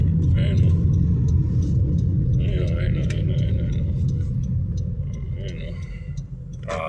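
Street traffic rumble in a congested road, a steady low drone of idling and crawling cars heard from inside a vehicle, with someone talking over it throughout.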